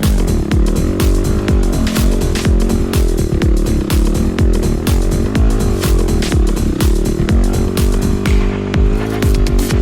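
A Yamaha WR250R dirt bike engine revs hard and continuously while climbing a steep trail at Tuckers Knob, Coffs Harbour, loud and close with rapid throttle pulses throughout.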